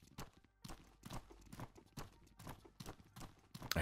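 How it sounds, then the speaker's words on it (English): Footsteps in the video game Outward: a steady run of rhythmic, fairly faint steps, several walkers overlapping in quick succession. "I hear tons of footsteps."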